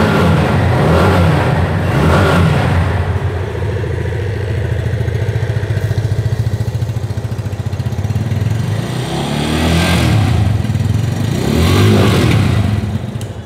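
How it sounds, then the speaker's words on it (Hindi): A 2022 Yamaha FZS 25 BS6 motorcycle idles loudly with a deep, throaty exhaust note, rising in a couple of throttle revs before settling back, with no talking over it. "चलिए अब इंजन का जो एग्जॉस्ट नोट है वो भी मैं आप लोग को सुना दूँ"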